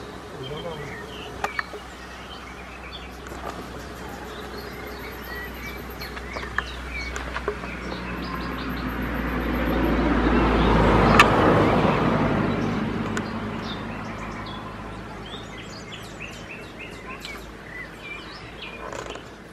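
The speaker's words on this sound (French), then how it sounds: "le bruit des oiseaux." Small birds chirp and tweet outdoors around a home, scattered high calls near and far over a low background rumble that swells briefly in the middle.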